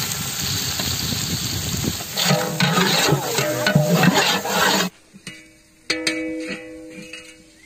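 Cinnamon, cloves, cashews and cardamom sizzle in hot oil in a large pot for fish biryani while a utensil scrapes and stirs, then the frying drops away leaving a few sharp clinks and taps.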